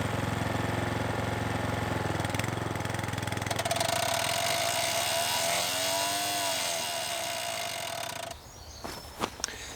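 A two-week-old Toro TimeMaster lawn mower runs at a steady, close engine drone, then cuts out abruptly near the end, leaving a few faint knocks.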